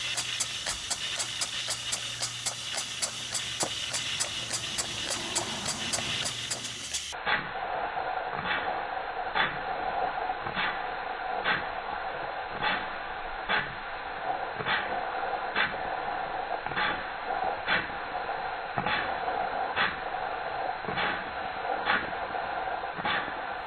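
A Stuart stationary model steam engine runs steadily, its hissing exhaust beating in a regular, evenly spaced rhythm of sharp puffs close by, with a broad steam hiss throughout and no talk.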